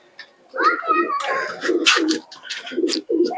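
A pair of Giribaz pigeons coo in a run of short, low, rhythmic pulses nearby, under a person talking over them.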